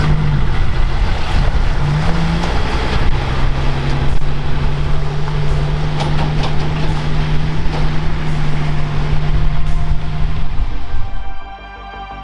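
HMMWV towing a trailer pulls away, its engine and road noise roaring loud and steady with a rising tonal whine, then cutting down sharply near the end.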